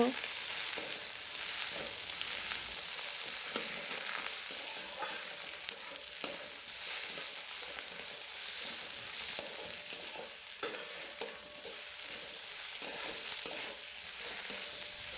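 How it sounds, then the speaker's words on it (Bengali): Ginger-garlic paste and chopped tomato fry in a pan, a steady close hiss of sizzling oil with occasional stirring scrapes running throughout, no voices over it. "আদা রসুনের পেস্ট, টমেটো কুচি দিয়ে ভালোভাবে ভেজে নেব"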